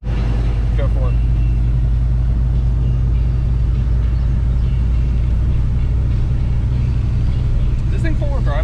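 A four-wheel drive vehicle rolling along a trail, its engine and tyres making a constant loud low rumble from close inside the cab, with people talking faintly over it.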